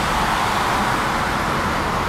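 Congested highway traffic on the 401 outside Toronto forms a constant, full rumble of many cars and trucks across several lanes, steady and fairly loud for the whole moment, with nobody talking.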